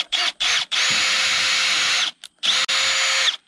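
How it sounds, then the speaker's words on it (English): Power drill boring a hole with a 1/8 bit into Fiberon composite decking, loud and close, in two long bursts with short pauses and brief restarts between. "Come in here and I drill."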